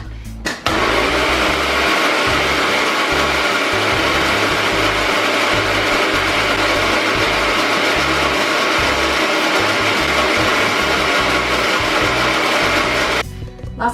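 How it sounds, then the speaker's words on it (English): A kitchen blender whirs loudly and continuously for about thirteen seconds while mixing tomato sauce ingredients, starting and stopping abruptly, with no talking over it. "I still don't know how to use this blender very well, you want to mix it all up"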